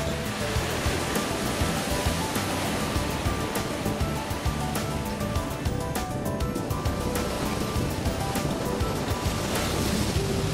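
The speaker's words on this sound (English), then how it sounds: "the breeze was kicking up a few waves to add to the scene" Waves break continuously on the shore at Alum Bay on the Isle of Wight at high tide, a dense steady surf roar stirred by a cold breeze, with wind buffeting the microphone and no voices.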